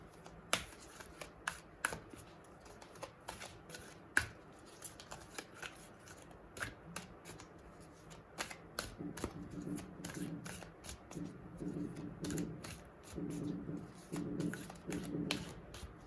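A deck of cards is shuffled repeatedly at close range, sharp riffling snaps recurring over a quiet background.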